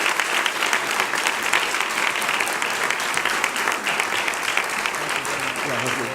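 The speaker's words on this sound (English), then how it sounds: "How about a round of applause for our speaker?" A National Press Club luncheon audience gives a round of applause for the speaker, Senator Marco Rubio, steady mid-sized room clapping that holds evenly for several seconds.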